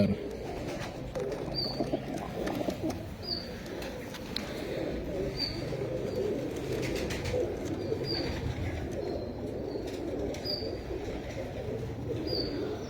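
Pet pigeons kept in pairs by a fancier coo softly and repeatedly against a low background murmur, with faint chirps scattered through and no clear speech.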